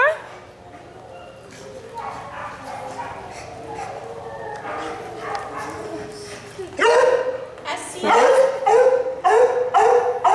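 A dog barks and yips nearby, with whimpering whines between, growing louder and more frantic toward the end.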